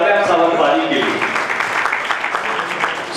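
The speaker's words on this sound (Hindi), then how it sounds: "एक बार तालियां बजाते हैं सावंतबाजी के लिए" Audience applause at Bikaner city's 536th foundation day celebration, dense steady clapping from a crowd with voices mixed in, fairly loud and continuous throughout.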